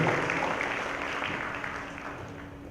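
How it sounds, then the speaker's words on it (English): An audience gives a round of applause after a speaker's talk, a steady patter of clapping at moderate level that slowly fades toward the end. "another big round of applause"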